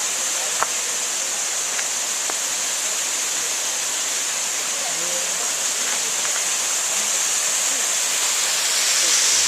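Steady broadband rushing of a waterfall, constant and fairly loud, filling the whole stretch with a few faint clicks on top.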